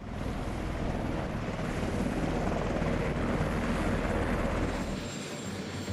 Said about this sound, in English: The Marine One pilots, or Nighthawks, continuously shift the position of the helicopters